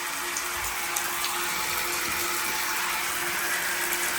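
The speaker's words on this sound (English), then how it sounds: "We got shower head running." A shower head runs steadily in a home bathroom during plumbing work, giving an even, continuous hiss of spraying water close by with a faint hum beneath it, no voices.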